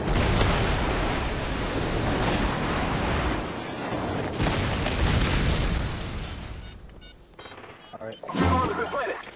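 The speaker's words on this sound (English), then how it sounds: "Friendly airstrike on the way!" Friendly airstrike explosions in Call of Duty Black Ops during Search and Destroy, dense overlapping booms and blasts mixed with rapid gunfire, loud and continuous, thinning out before a final close burst.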